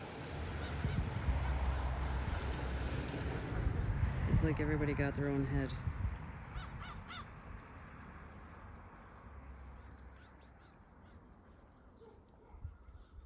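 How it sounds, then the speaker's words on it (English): Harsh squawking gull cries burst out in a cluster over outdoor chatter as fish guts and heads are thrown out, with a few more scattered calls later as people keep talking. "And now all the gulls."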